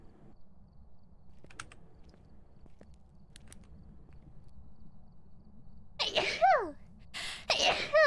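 After a quiet stretch, two sharp, loud sneezes burst out close by near the end.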